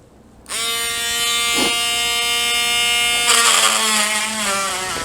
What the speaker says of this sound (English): I have a cutting bit on the Dremel tool that I should be able to go through and cut that pretty easily